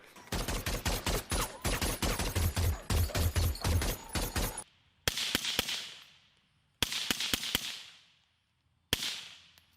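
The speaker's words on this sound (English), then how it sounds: "When they're firing their suppressed weapons, they make the pew pew sound." Suppressed gunfire from the war film American Sniper: a dense volley of sharp muffled shots for several seconds, then isolated single cracks with trailing echoes separated by brief silences.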